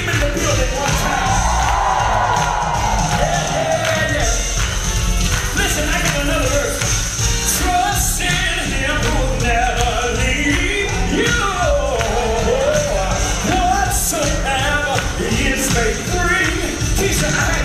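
A church congregation claps and shouts together in a loud, continuous roar of crowd noise, cheering and rhythmic clapping that fills the whole stretch without a pause.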